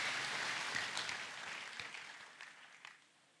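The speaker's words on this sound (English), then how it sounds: "Clap for Jesus." A church congregation claps and cheers, a broad, fairly faint wash of applause that gradually fades out.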